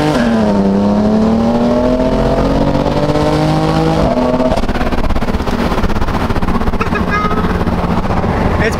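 Slammed BMW M4 running on E85 fuel revs and accelerates hard from inside the cabin, its engine note climbing, dropping through a shift, then pulling again in a loud continuous drone.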